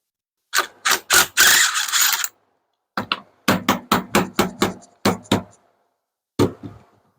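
A ratchet works a nut loose on a vehicle's steering linkage, giving close, loud bursts of rapid mechanical clicks in separate groups with short pauses between them.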